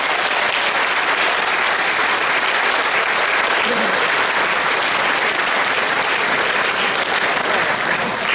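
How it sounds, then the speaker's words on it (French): Steady, loud applause from the hall at an association's general assembly in January 2020 fills the full eight seconds as an even, unbroken wash of clapping. "Donc moi je tiens surtout à ce que vous les applaudissiez bien fort"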